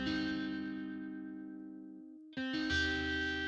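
Chorus is added to a synthesized music track. Sustained layered tones fade out, then a thicker, shimmering chord comes in loudly.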